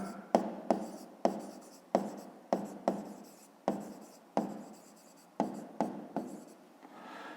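Pen on paper while working a fifth-grade math exercise: a series of short, scratchy strokes, each a quick rasp that fades, about a dozen in an uneven rhythm, close and clear with no speech.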